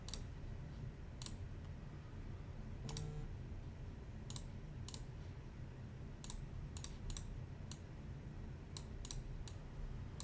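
Sparse keyboard typing, with scattered clicks and short bursts of keystrokes at an irregular pace over a steady low background hum. No one speaks.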